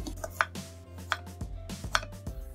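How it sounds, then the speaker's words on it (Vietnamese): Knife chopping jicama into one-centimetre slices on a cutting board for a vegetarian macaroni soup: a handful of spaced, firm thuds at an uneven rhythm, close and fairly quiet, with no talking. "Tiếp theo là mình sẽ xắt củ sắn nha."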